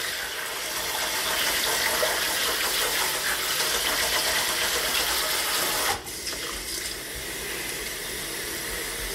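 A shower jet rinses a finished cross-stitch embroidery with a steady, loud hiss of spraying water, broken briefly by a short dip when the stream shifts.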